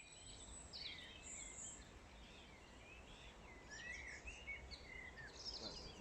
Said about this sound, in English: you get 6 different birds singing at once